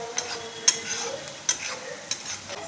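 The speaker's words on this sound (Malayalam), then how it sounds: "സവാളയും ഇഞ്ചി വെളുത്തുള്ളി ഇത് വഴറ്റുക." Onion, ginger and garlic are sautéed in a pan, frying with a soft steady sizzle while a spoon stirs and taps the pan every half second or so, close and fairly loud, with no talking.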